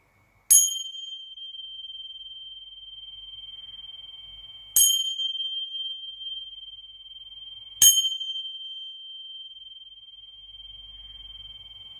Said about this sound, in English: So I will sound the bell before we begin the discussion.